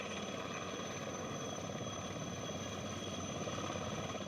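An Air Force helicopter, set down after an emergency landing caused by a technical fault, gives off a constant, dense engine and rotor drone at steady loudness throughout, with no speech.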